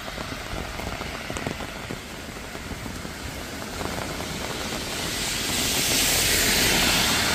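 Heavy rain pours steadily in a city street in Sortavala, Karelia, a dense, close hiss of drops on hard surfaces that swells louder toward the end, with no voices.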